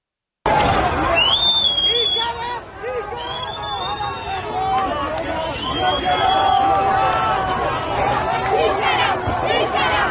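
A huge protest crowd in Tehran, Iran, roars as a dense wash of chanting voices, shouts and whistles that keeps going without a break, loud and sustained.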